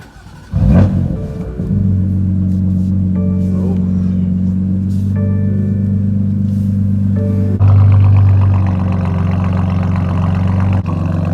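A BMW M4 with a stage 1 tune, muffler delete and X pipe cranks and fires with a loud rev flare, then settles into a deep steady idle with a second blip near the end.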